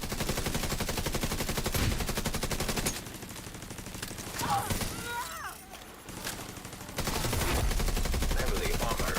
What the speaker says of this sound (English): Turret firing as well.